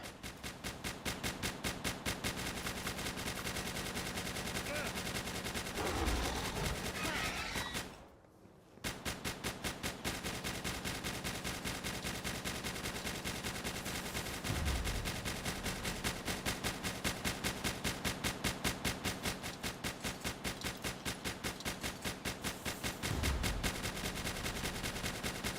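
Defense turrets in the video game Palworld fire continuously in a fast, unbroken automatic rattle, loud and steady, with a brief pause partway through.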